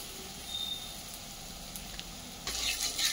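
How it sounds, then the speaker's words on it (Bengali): Fritters (bora) frying in hot oil give a steady, soft sizzle close by, growing a little louder and brighter near the end, with no one speaking. "দেখো কি সুন্দর বড়া ভাজাটা হচ্ছে"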